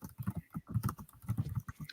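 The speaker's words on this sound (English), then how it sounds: "Bob's typing like a madman" Rapid typing on a computer keyboard, a quick irregular patter of soft key clicks in bursts, faint and close.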